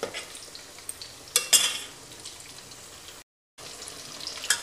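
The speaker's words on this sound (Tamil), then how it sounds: "ஒரு ரெண்டு நிமிஷம் அந்த மசால் சேர்ந்து அப்படியே வர மாதிரி கிண்டி விட்டுக்கிட்டே இருக்கணும்." Prawn masala for prawn sukka being stirred in a frying pan, soft scraping and sizzling with a few sharper clinks of the spoon against the pan, steady and close, with a brief silent gap near the end.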